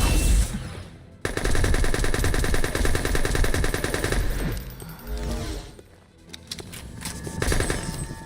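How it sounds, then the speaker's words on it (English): A submachine gun fires in a video game: long, dense automatic bursts, loud and nearly continuous, with a brief pause before more rapid fire. "I think this SMG is probably the best thing that I can do to him."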